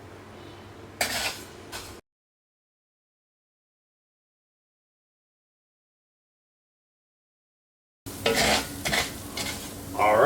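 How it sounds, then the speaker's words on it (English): Rice sautéing in melted butter in a pan, stirred with a utensil: soft sizzling and scraping, one short stretch at the start and a louder stirring stretch at the end, with a long silent gap between. "give it a good quick saute, give it a good color"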